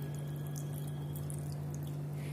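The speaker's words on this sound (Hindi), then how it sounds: "ये सब चीजें डालने के बाद हम इसमें डालेंगे 2 से 4 चम्मच पानी।" Water pours steadily into a mixer jar holding tomatoes and spices, a continuous close trickle over a constant low electrical hum, with no voices.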